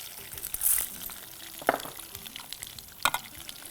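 Mustard seeds, green chillies and chana and toor dal crackle in hot oil, a soft steady sizzle broken by a few sharp pops and spatters, close and alone.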